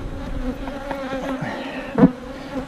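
Bees buzz steadily around a beekeeper working a hive, a continuous droning hum close to the microphone with a louder burst as one passes near.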